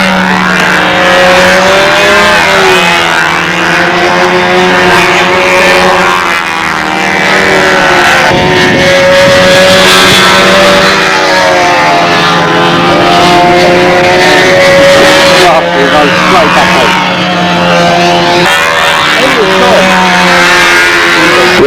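A Russian model aircraft motor with a special propeller runs steadily and loudly at a windy national model aircraft contest, a continuous droning whine with shifting pitch throughout.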